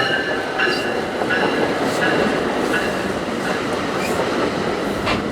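A commuter train arriving at a station rumbles steadily nearby with rhythmic clatter of wheels and faint metallic squeals, a continuous rolling noise filling the whole stretch.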